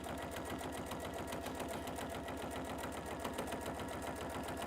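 A sewing machine fitted with a walking foot runs continuously at a steady fast pace, its rapid even mechanical stitching rattle close and loud for the whole stretch.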